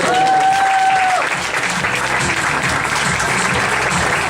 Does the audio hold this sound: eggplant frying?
no